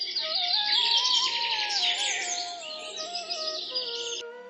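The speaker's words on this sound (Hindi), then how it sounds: "पक्षियों की चहचहाहट फिर से जंगल में सुनाई देने लगी थी।" Birds chirp and trill in a forest in the morning, several overlapping calls sweeping up and down, fairly close and clear with no voices.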